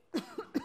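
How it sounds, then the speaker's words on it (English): A woman gives three short, close coughs in quick succession while choking during a talk, each a brief throaty burst in under a second. "And actually, sorry, I really am choking. I actually am choking."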